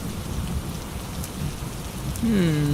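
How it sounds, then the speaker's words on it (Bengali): Steady night rain pours down with a dense hiss and patter, continuous throughout, with a low tonal hum rising near the end. "মনে হয় বৃষ্টি বেশিক্ষণ থাকবে না"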